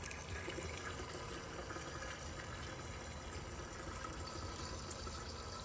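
Diesel fuel pumped from a Wurx transfer tank into a machine. A faint, steady liquid rush and fill noise runs on without a break, with no talking.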